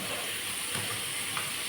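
Masala frying in a hot pan, a steady dense sizzle and hiss close by without any break or talk.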